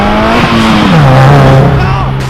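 Car engine revving at a casual car meet, the driver trying to make the exhaust pop; a loud, steady droning rev that dips and settles lower, close by, with voices mixed in.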